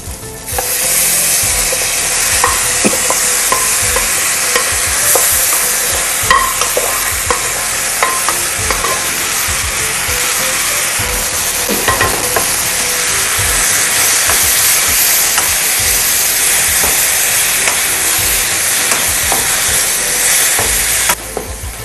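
Yam and spinach curry with a sizzling tempering being stirred in a pan, a steady loud frying hiss throughout with repeated scraping and clinking of the spoon against the pan, no talking.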